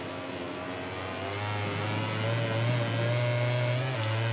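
An Aprilia motorcycle engine in MotoGP 18 holds a steady mid-pitched drone, then rises and swells louder about a third of the way in and keeps revving hard to the end, with no voices.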